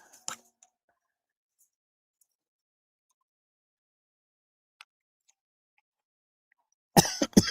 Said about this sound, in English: I have a small yet persistent cough